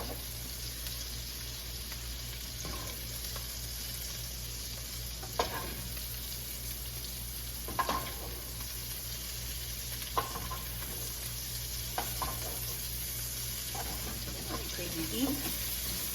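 Stir fry frying and sizzling in a pan while being mixed, a steady hiss with occasional scraping clinks of stirring, with talk over it.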